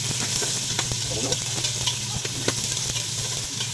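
Onions sautéing in hot oil in a pan already holding garlic and ginger, a steady close sizzle with stirring clatter throughout.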